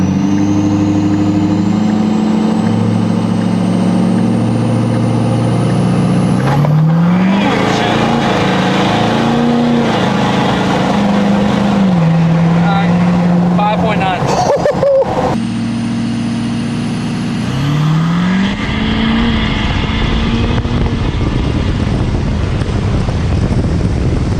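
A 6.7L Powerstroke diesel truck fitted with a huge turbo accelerates hard in a drag run. The engine roars loud and close, with gear changes and wind noise throughout and voices from inside the cab.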